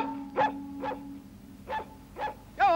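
A dog barks five short, sharp times at uneven intervals, close and fairly loud, over a faint low hum and without any speech.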